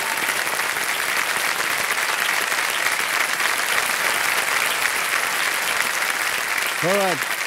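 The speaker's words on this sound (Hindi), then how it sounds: "ताली बज जाए" Studio audience applause on the KBC television quiz show, a steady, dense burst of clapping that fills the room from start to finish, with a brief musical sting near the end.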